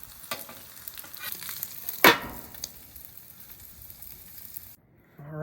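Salmon patties sizzle on a flat griddle in a steady crackle, with a sharp scrape of a spatula partway through before the sound cuts off.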